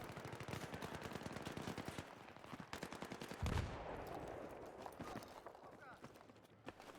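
Rapid bursts of video game gunfire crackle densely through the first half, with a heavier thump midway, then a rougher, noisier stretch follows; a voice talks over the action throughout.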